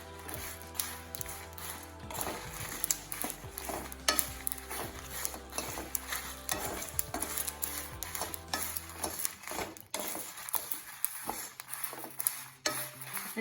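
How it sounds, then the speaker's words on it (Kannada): Dried Byadgi chillies fry and crackle in a pan for a Mangalore-style brinjal sambar, a steady sizzle broken by repeated scraping stirs and light clinks of a spoon against metal, close and continuous with no talking. "ಅದನ್ನು ಚೆನ್ನಾಗಿ ಫ್ರೈ ಮಾಡಿ"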